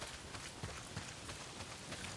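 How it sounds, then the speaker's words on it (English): Steady rain pours down in the Days Gone game world, a dense, even hiss with scattered heavier drops, continuous and fairly close with no talking. "not if it's pissing down rain"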